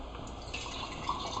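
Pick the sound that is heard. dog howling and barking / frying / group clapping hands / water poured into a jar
water poured into a jar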